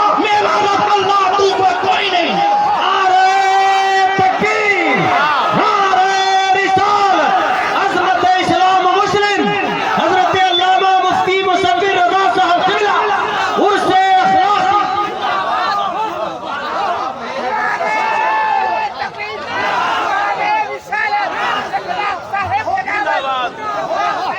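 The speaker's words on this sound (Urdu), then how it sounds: "نعرے تکبیر نعرے رسالت" A crowd shouts the Takbir slogan in loud, close, repeated bursts of many voices chanting together, carrying on for long stretches with strong, sustained vocal tones.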